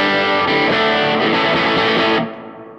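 Electric guitar played through a preset built in the Fender Tone 3.0 app, with a pedal in front, an effect before the amp and reverb after it; one dense, sustained distorted chord rings loudly, then cuts off into a fading reverb tail.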